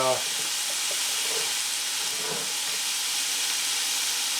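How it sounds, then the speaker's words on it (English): Vegetables sautéing in a pan for a low-salt home-cooked meal, giving a steady close sizzle and hiss that holds evenly throughout, with a few faint clinks beneath. "then I'll saute the vegetables in the pan"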